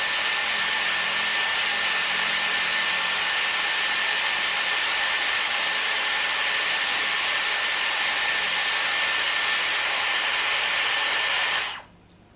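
A Dyson Airwrap blows cold air on hair, a steady loud hiss of airflow with a constant whine running unbroken for about twelve seconds before cutting off abruptly near the end.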